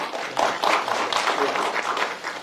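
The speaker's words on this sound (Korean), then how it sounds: "박수로 환영합니다." Audience applause at a Korean labour-market academic conference, a short burst of dense clapping welcoming a speaker, moderately close and steady for a couple of seconds.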